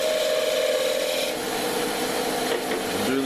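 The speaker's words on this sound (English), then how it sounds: "We'll use the tip of the skew this time." A skew chisel's tip rubs hard against a spinning big leaf maple scoop handle on the lathe, a loud continuous friction hiss and whine up close that shifts in pitch toward the end.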